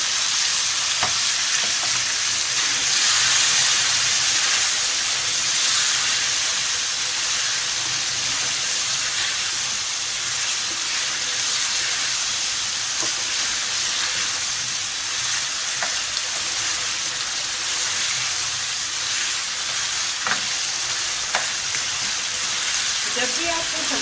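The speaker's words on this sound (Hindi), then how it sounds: "अब इसमें हम अरबिया डालेंगे। इसे अच्छे से भूनना है।" Taro pieces being stir-fried with fried minced meat in a pan, a steady close sizzle with occasional scraping stirs throughout, no talking.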